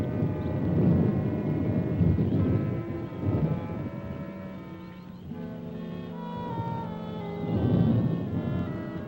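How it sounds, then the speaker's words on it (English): Thunder in a classic sci-fi adventure film rolls as a low, drawn-out rumble that swells and fades in broad waves, with some tonal hum running underneath. "Just thunder."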